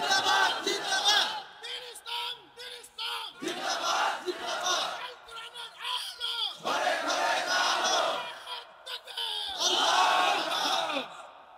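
A large crowd at an Islamic sermon chants the takbir in loud, rhythmic unison, several swelling bursts of massed voices answering a call, with short quieter gaps between the chants.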